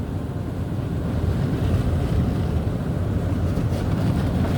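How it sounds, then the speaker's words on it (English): An automatic car wash sprays pre-soak over a car, a steady dense hiss and rumble of jets that builds slightly after the start and stays constant, with no voices. "We're starting off with pre-soak."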